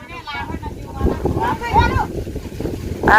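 Storm wind gusts and buffets the microphone with steady loud rushing, and voices talk and call out over it.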